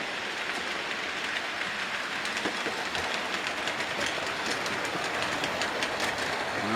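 A model train rolls past steadily on a loft layout, including a Black 5 locomotive, with rhythmic clickety-clack over the rails, a continuous rushing and rattling that stays fairly close throughout.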